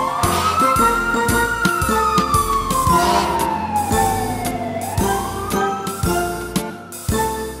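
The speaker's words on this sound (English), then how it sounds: "Fire engine." Fire engine siren wailing loudly and steadily, its pitch sweeping down and back up, with a rhythmic horn or engine pattern pulsing beneath it throughout.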